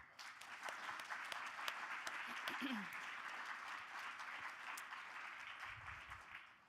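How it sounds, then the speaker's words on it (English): An audience at an award ceremony gives sustained applause, a broad, even wash of many hands clapping at moderate distance throughout, with a brief murmur of voices partway in. "So please join me in a golden heart applause for both Olivia and Kangasak."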